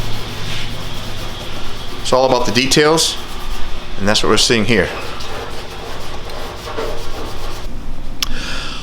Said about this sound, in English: is sanding away, scuffing the primer, getting ready for another round of primer sealer